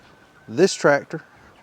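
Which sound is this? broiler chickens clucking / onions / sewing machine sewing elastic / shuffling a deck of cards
broiler chickens clucking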